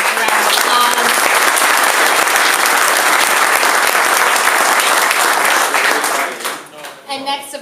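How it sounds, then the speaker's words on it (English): A large crowd at an evening gathering applauds the Elks Lodge and helpers in a loud, steady burst of dense clapping that tapers off after several seconds as a voice begins speaking. "if everyone could just give them and the helpers a round of applause"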